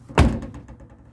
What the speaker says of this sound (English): Doors closed pretty solid.